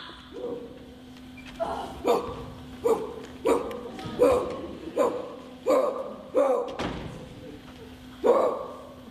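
A dog in a stage musical production of Peter Pan barks in a regular series of loud yaps, roughly one every second, over a low steady hum, with voices speaking around them.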